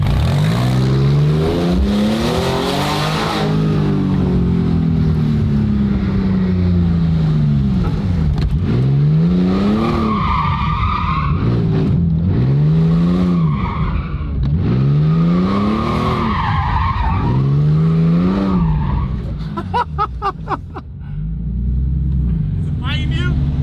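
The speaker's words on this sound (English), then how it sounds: "I wonder if this thing would do a burnout" A Porsche 997 revs hard and squeals its tires through a burnout, with repeated rising and falling engine sweeps and loud screeching, close by, while people talk over it.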